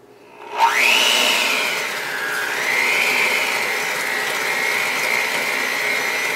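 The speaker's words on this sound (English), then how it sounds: "Then I'll grab my mixer and we're going to mix this up." A handheld electric mixer beats butter for biscotti, spinning up sharply from quiet into a loud, steady whir that wavers slightly in pitch as it keeps running.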